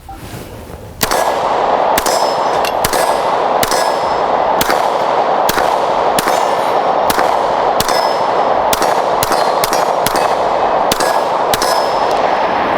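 A rapid string of about a dozen sharp shots from a Daniel Defense H9 pistol emptying a full magazine, each followed by a bright metallic clang from steel targets. The impacts come at an uneven, fast pace, loud and close.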